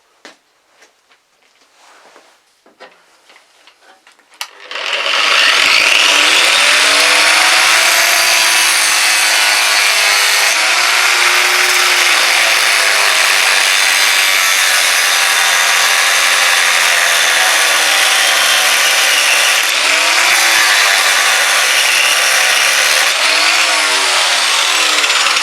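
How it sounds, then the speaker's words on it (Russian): An angle grinder fitted with a grinding disc cuts continuously at high volume under maximum load, its harsh whine dipping now and then, following a few quiet clicks at the start. "сейчас попробую максимально нагрузить болгарку."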